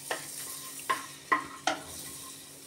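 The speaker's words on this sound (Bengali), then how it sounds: "এবার বাটারটা গরম হয়ে গেলে তার মধ্যে আমি 2টো তেজপাতা আর 5-6টা গোলমরিচ দিয়ে দিলাম" Bay leaves and black peppercorns sizzle gently in hot butter in a pan, a soft steady frying hiss marked by four light knocks of a spoon stirring at even intervals, with no talk.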